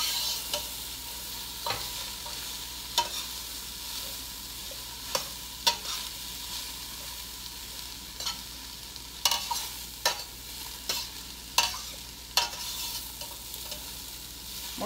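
Pierogies fry in a pan during home dinner cooking, giving a steady soft sizzle with scattered sharp clicks and scrapes of stirring, fairly quiet with no voices.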